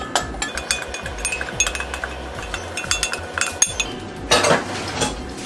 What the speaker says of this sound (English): we're mixing all of our dry ingredients before we add our eggs and our milk